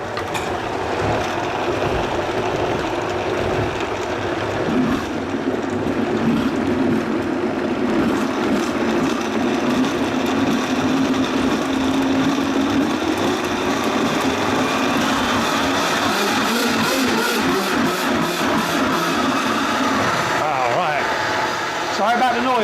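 Blender processing fermented jalapeno hot sauce, a loud continuous grinding whir that runs unbroken throughout and shifts in texture toward the end.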